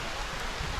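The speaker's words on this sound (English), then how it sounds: "and now the rain feels really good" Rain pours steadily onto a farm in the Philippines, a dense, continuous wash of close, even hiss with no breaks through the short stretch.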